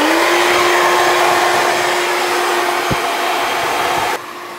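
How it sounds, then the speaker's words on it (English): Hair dryer blasting air through a nozzle during a men's haircut, a loud continuous whooshing roar with a steady whine, close to the microphone, that drops in level just before the end. "if you're blasting the hair through with the nozzle and you're scrunching it"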